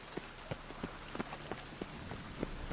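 Rain falling in The Witcher 3, a steady soft patter with scattered louder drops tapping at a quick irregular rhythm, heard alone at a low level.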